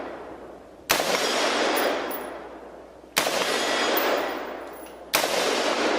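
Fully automatic rifle fire rings out outdoors in three loud bursts about two seconds apart. Each hits sharply and then roars on in a dense, fading wash of noise.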